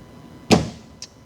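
Shifter rod pulled from a 1986 Porsche 944 Turbo transmission: one sharp metallic clunk followed by a faint short click, close and otherwise quiet.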